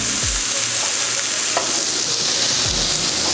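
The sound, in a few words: hot canister pressed on coffee-rubbed steak, sizzling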